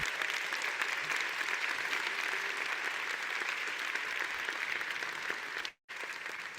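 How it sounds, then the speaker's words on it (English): Steady applause from a conference audience honouring CDL mentors at the CDL Super Session 2023, a dense, even clapping texture that holds throughout with a brief dropout near the end. "Can I have a round of applause for our CDL mentors?"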